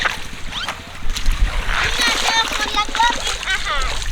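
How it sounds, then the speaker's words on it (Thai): Water splashes and runs while a toy dump truck is washed at a beach, in irregular close bursts of splatter, with a voice and other talk mixed in. "เสียงน้ำอาจจะดังหน่อยนะเพื่อนๆ"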